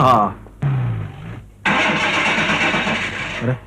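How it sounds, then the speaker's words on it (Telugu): A car with a faulty engine cranks and sputters in rough, uneven bursts with short gaps between them, close and loud, then runs on roughly. "దీని ఇంజిన్ కి ఏదో జబ్బు చేసినట్టుంది."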